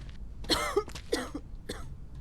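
Several short, raspy coughs from a zombie video game character in quick bursts, fairly close and clear, with brief pauses between them.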